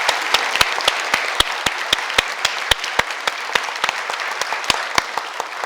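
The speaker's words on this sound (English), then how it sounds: "If I get a round of applause for everybody" Audience at a technical college awards ceremony gives a round of applause, a steady patter of many hands that sounds moderately distant and runs for several seconds with no talk over it.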